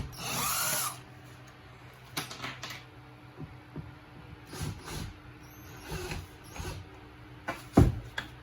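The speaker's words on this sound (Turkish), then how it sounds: "Evet ustamız kapağını söküyor. Evet, vida yerleri belli." A power screwdriver whirs briefly as it backs screws out of the rear cover of a Grundig 49-inch TV with a blue-screen fault. Clicks and tool clatter follow at close range.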